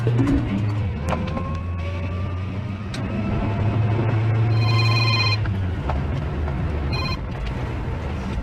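A telephone gives a couple of short electronic ringing bursts over a steady background rumble that sounds like a car engine, with no clear speech.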